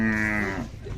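A five-month-old Khillar bull calf at a village cattle fair lets out a single loud, close moo that holds steady and then trails off within a second, with the murmur of the fair behind it.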